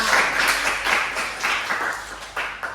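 A classroom of students gives a student a round of applause: dense, steady clapping from many hands for a few seconds, close and fairly loud, thinning slightly toward the end.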